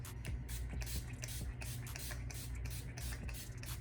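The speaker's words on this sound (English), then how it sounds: "I'm going to spray first" Makeup setting spray misted from a bottle in a series of quick, close hissing bursts, repeated rhythmically about a dozen times with short gaps, no voice over it.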